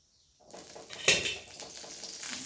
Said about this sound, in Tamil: கொஞ்சம் எண்ணெய் ஊற்றுவோம்